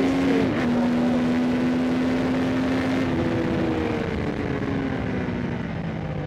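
A 2025 Triumph Tiger Sport 800 motorcycle riding in sport mode, its engine note steady and loud with a sustained drone that dips briefly then holds, wind rush underneath, no talk.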